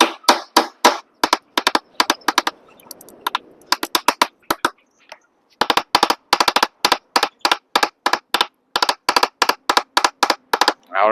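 Rapid, sharp metallic taps of a hammer striking a metal part while repairing a Bosch GWS-060 4-inch angle grinder, in quick bursts with short pauses, loud and close.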